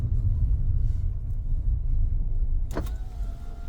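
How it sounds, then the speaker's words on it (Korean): Inside a car during a driving lesson, a power window briefly whirs as it partly closes, set against a constant low road and engine rumble. "창문 일부 닫고 가는 거야 근데?"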